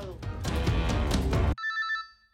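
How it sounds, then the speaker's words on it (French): A telephone bell rings loudly in a short burst of repeated rings, then a brief electronic ringtone tail fades out. "Je suis désolé, on vous téléphone."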